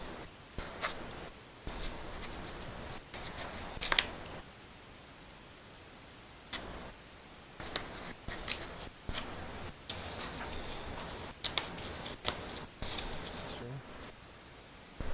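Cut Kaizen foam is picked and pulled out of a nut driver organizer, giving soft scratchy tearing and rubbing noises in irregular bursts, close and fairly quiet.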